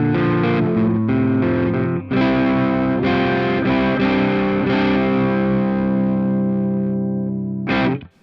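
A PRS guitar through a Marshall Valvestate 8100 amp on the clean channel with the crunch control engaged, strummed chords ringing with mild overdrive, a brief pause near two seconds, then a final chord stab near the end.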